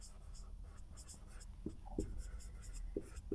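Marker or chalk writing on a classroom board during an English grammar lesson, a steady faint scratching with several short strokes, quiet and close with no talking over it.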